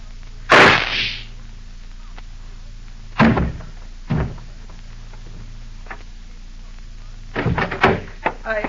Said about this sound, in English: I heard a shot.